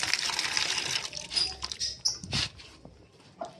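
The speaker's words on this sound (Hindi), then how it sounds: "पानी डाल दिया भाई इसको, अब ये पानी पी लेगी" Water is poured out for a chick indoors with a splashy trickle and spatter that comes close and fades in uneven bursts, followed by light patter.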